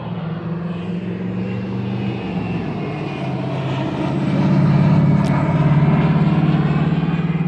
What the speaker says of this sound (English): it looks like a little turboprop Beechcraft